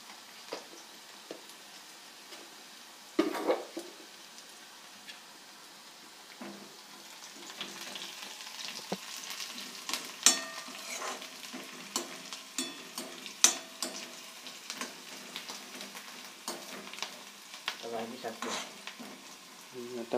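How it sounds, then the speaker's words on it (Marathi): Onion and dried coconut fry in hot oil for a Marathi kudyachya fulanchi bhaji, a soft steady sizzle with occasional stirring scrapes and clinks, fairly quiet throughout. "तेल गरम झाल्यानंतर आता यात कांदा टाकलेला आहे"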